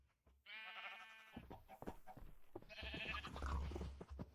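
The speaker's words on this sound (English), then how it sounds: "And we have 4 fully grown sheep" Sheep bleating in the Minecraft video game, a long wavering bleat up close followed by a second, rougher bleat after a short gap, with no talk over it.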